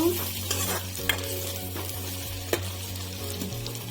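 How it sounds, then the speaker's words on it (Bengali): Chopped onion fries in hot oil and is stirred, a loud close sizzle punctuated by spatula scrapes and a few metallic taps against the pan, with no speech. "পেঁয়াজটা নেড়ে ফেড়ে লাল করে ভেজে নিব"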